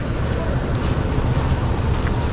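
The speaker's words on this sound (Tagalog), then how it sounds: "Mahangin daw." Wind buffeting the microphone on a boat trip near Subic, a loud, steady low rumble with gusty flutter and a wash of water beneath, continuous throughout.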